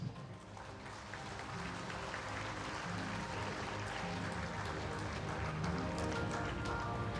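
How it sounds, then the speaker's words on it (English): Applause from an audience at a school education summit award ceremony, a dense, continuous patter of many hands clapping, moderately distant and building slightly toward the end, with no speech over it. "Please give them a big round of applause."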